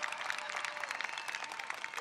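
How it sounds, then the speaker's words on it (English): Audience applause at a Maryland governor's inauguration, a steady wash of clapping from a crowd after the national anthem, moderately distant and fairly faint throughout. "how about a round of applause for James Moore"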